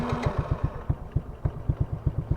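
A warm four-wheeler engine with its idle set too low, barely catching and running in uneven, chugging pulses close by, with no voices.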